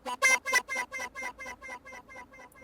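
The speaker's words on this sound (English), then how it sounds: "It kind of sounds like a guitar strut with some echo on it." A Roland JX3P 'lead sync' synth preset with a guitar-like tone plays one plucked note that repeats as an echo about a dozen times, each repeat quieter and evenly spaced, fading over nearly three seconds.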